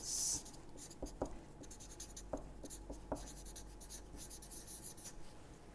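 Pen or pencil scratching and tapping on paper while sketching a diagram, with soft intermittent strokes and small clicks in a quiet room.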